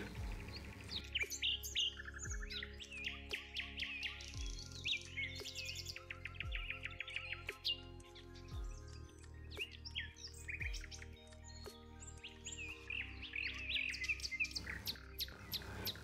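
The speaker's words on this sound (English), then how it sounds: "The bird song reaches a crescendo, filling the ear with an eternal chorus." Forest birds sing at sunset, a dense chorus of bright chirps, whistles and trills that overlap continuously, some calls close and crisp while others sound farther off, with no talking.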